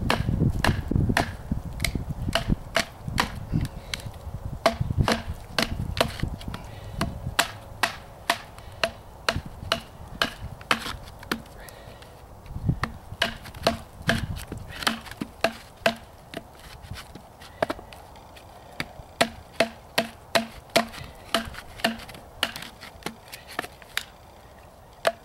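Bear Grylls Ultimate PRO survival knife chopping wood to make a hearth board, many sharp close strikes in irregular bursts, sometimes quick rapid runs, with scraping and handling noise between and no talk.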